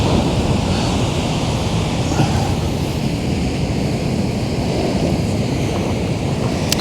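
Big ocean swells roll onto the coast near Murchison Station, Kalbarri, Western Australia. A loud, continuous rushing of surf is mixed with wind buffeting the microphone, with no speech.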